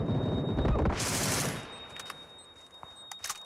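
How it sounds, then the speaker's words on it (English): A stun grenade goes off in PUBG with a loud, bright burst in the first second and a half, after which the noise drops away. Faint scattered clicks and small pops follow at a distance. "I thought for sure I threw a stun grenade."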